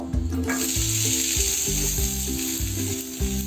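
Chopped ginger pieces dropped into a little hot oil in a pan, giving a steady close sizzle with a low, uneven hum of cooking underneath.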